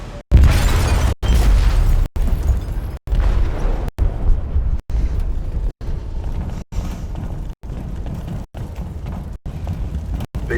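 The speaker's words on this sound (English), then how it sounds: "They detonated an explosive in the hold." An explosive detonated in a ship's hold in the video game Detroit: Become Human: a loud, heavy rumble of booming blasts broken into repeated bursts with brief silent gaps between them.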